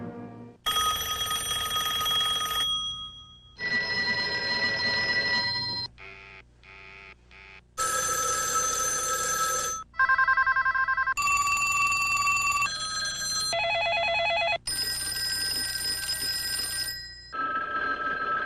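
Telephones ringing in a montage of Hollywood film clips edited as video art: a run of loud electronic and bell rings in separate bursts, each changing pitch and tone, with a brief muted gap near the middle and no talk.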